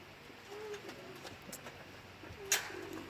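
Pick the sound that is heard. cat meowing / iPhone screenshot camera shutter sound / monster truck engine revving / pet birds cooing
pet birds cooing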